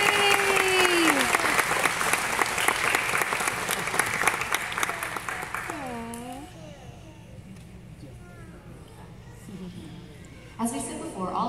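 Sustained audience applause fills a kindergarten award ceremony, loud and dense at first, then thinning toward the end, while a voice speaks over the clapping for much of it.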